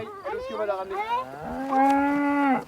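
A cow on a farm gives a long, loud moo close by, rising and then holding a steady low drawn-out tone for over two seconds, with no talk over it.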